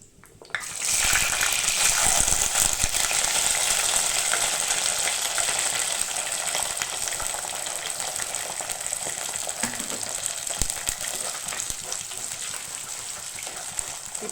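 Onion, curry leaves and garlic sauté in hot oil with fenugreek, a steady, dense sizzle and crackle that rises quickly and holds loud and close throughout, with no talking.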